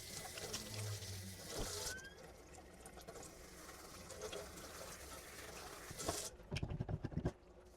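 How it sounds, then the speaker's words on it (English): Running water and wet sloshing as a foam filter is soaked with water and gentle dish soap, a continuous close splashing wash with bursts of louder pouring toward the end, no talking. "let's get this soaked down and get a little bit of the gentle dish soap in there"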